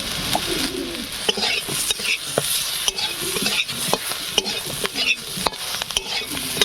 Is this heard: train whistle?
no